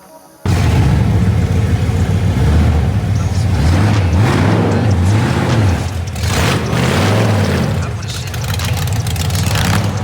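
Shelby Daytona engine roars loud and close as the car drives and the back tires spin, with a wavering pitch and sustained rumble throughout, voices faintly underneath.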